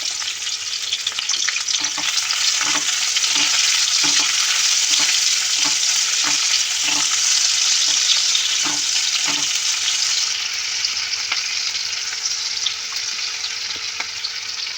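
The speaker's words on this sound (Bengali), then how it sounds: "পেঁয়াজগুলো ভাজা ভাজা হয়ে গেছে" Onions sizzle steadily in hot mustard oil, a loud, close, continuous frying hiss punctuated by a regular run of spoon knocks and scrapes as they are stirred, easing slightly toward the end.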